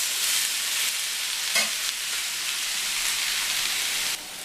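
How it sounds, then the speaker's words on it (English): Sausage, sweet potato and apple sizzle in a skillet while being stirred, a steady bright hiss with a brief scraping stir near the middle, close and continuous before dropping slightly quieter at the very end. "I'm just going to keep an eye on this and kind of keep stirring it for the next 10 minutes or so"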